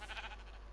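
A goat in Minecraft giving one short, faint bleat with a wavering tone over a low background hum.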